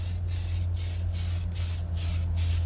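Steady, loud hiss of a spray can in continuous bursts, with several brief dips in the spray across the span and a low hum beneath.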